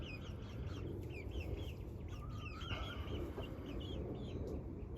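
A flock of chickens, including a hen with chicks, gathers at the coop for the night, with soft, overlapping clucks and chirps over a constant low background murmur.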